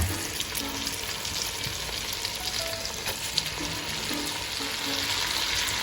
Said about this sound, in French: on y dépose doucement nos morceaux de joue et on va les laisser saisir